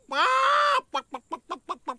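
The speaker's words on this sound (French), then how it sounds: "Ouh, les poules, où êtes-vous?" A loud drawn-out squawk from a cartoon chicken, followed by six quick rhythmic clucks, close by with no talking.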